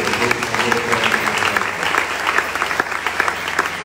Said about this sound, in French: Est-ce qu'on peut acclamer pour l'homme de Dieu?